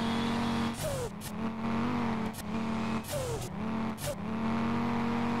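A drift-tuned Audi TT engine in the racing game SLRR revs up and down repeatedly with a steady droning hum underneath, the pitch sweeping between bursts of throttle.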